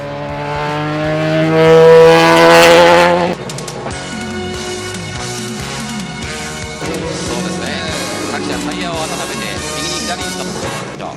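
Mazdaspeed March 84G Group C race car with a 13B twin-turbo engine gives a loud, buzzing roar for about three seconds, then a quieter, busier blend of sound carries on.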